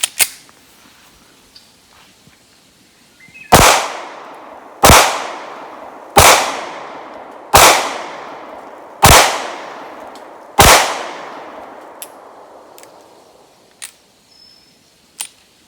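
A Taurus G2C pistol firing defensive ammunition at a range, six loud sharp shots evenly spaced about a second apart, each with a ringing decay, then faint metallic clicks.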